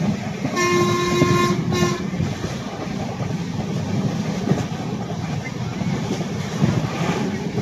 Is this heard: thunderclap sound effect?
no